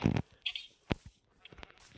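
A sheep bleating in the Minecraft video game: a few short, fairly quiet bleats, with one burst at the start and another about a second later, separated by near silence.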